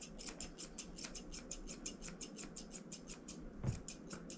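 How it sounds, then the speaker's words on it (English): A big pair of grooming scissors snips steadily through a small nervous dog's hair, a fast, even run of crisp close-up cuts with a brief soft thump near the end. "I know that's a big old pair of scissors"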